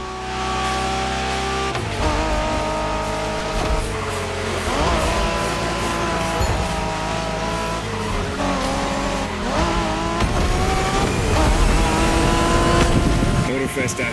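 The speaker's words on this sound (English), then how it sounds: "We're going for some proper Japanese street racing." Honda NSX engine from the racing game The Crew Motorfest during Japanese street racing: a steady, loud engine roar with rising and falling revs and gear shifts, plus occasional tire squeal, under game music and effects.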